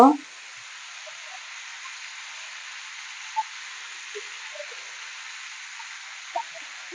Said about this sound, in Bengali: আবারও ভালোভাবে ভেজে নেব